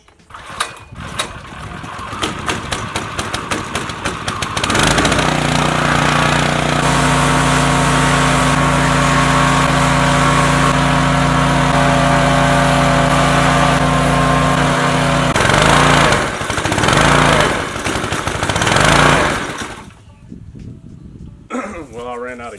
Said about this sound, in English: I'm gonna hook my power washer up